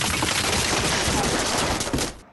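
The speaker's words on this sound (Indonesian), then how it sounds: "Okuyasu terkena tembakan yang entah dari mana datangnya." Gunfire in an anime film, a dense burst of rapid shots that ends abruptly, loud and close, with no talking.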